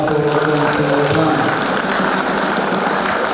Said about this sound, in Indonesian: Tepuk tangan juga untuk para pastor konselebran.